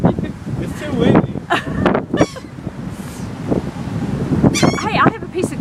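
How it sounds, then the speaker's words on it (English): Gusty wind buffets the microphone outdoors, a steady low rumble with surges, while several people talk and exclaim over it throughout. "It's too windy."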